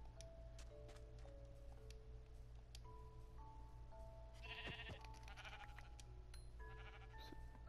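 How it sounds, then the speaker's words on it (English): Several synthetic Minecraft sheep bleats sound out against a steady low electronic hum, a few short calls spaced apart. "Ah, there's another sheep."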